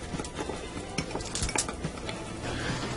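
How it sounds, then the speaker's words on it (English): A spoon stirs a dry spice rub for pork chops in a bowl, giving light scraping and clinks of metal against the dish, close and steady over a few seconds with no talk. "give this a good stir, get it well blended"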